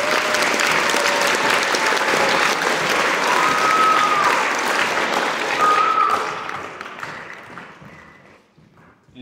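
An audience at a high school band event applauds loudly and steadily, then the applause fades out toward the end.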